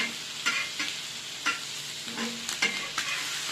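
Egg bajji fries in hot oil in a pan while being turned over, with light sizzling under a series of short scraping and tapping strokes spread across the few seconds, no voices.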